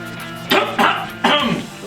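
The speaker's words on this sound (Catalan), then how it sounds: "Ui, quina tos." Three harsh coughs in quick succession, close and loud, each a short raspy burst with brief pauses between.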